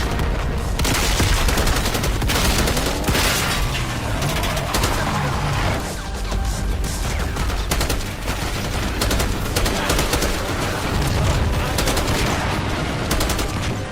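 Sustained gunfire from a Call of Duty Black Ops 6 firefight, with dense overlapping bursts of automatic fire and sharp shots continuing loudly throughout, backed by battle ambience.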